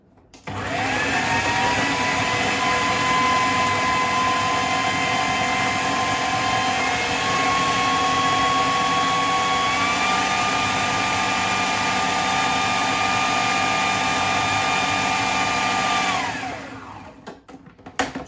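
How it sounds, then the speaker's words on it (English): A food processor blitzes 100 grams of wild garlic for pesto, a loud steady motor whine running continuously for about sixteen seconds, its pitch stepping up slightly partway through before spinning down and stopping. "100 grams of wild garlic into the food processor, and you want to blitz it until it's fairly well broken down"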